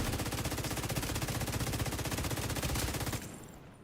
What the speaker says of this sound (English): Oh, some shooting, man.